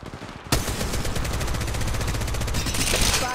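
Rapid automatic gunfire in Apex Legends gameplay, a loud sustained burst of fast repeated shots starting suddenly and running to the end, with a brief voice line at the start.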